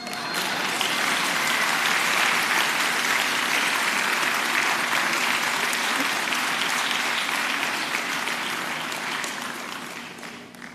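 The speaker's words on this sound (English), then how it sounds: "the applause I get is much louder than this one" A large lecture audience applauds continuously, a dense, loud clapping that holds steady for several seconds before tapering slightly at the end.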